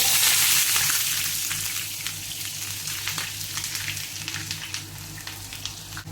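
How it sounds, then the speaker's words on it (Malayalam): Chopped onions and fennel seeds frying in hot coconut oil, a steady close sizzle that is loudest at the start and settles into a softer crackle. "അതിലേക്ക് പെരിഞ്ചീരകം ചേർത്ത് കൊടുക്കാം. അരിഞ്ഞു വെച്ച സവാള ചേർത്ത് കൊടുക്കാം."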